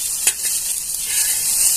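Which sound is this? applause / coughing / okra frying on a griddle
okra frying on a griddle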